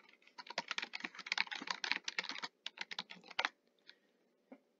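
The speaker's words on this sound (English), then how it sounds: "So from there, you type in your request." Rapid typing on a computer keyboard, dense clusters of close, crisp key clicks for a few seconds, then a handful of scattered isolated taps as it trails off.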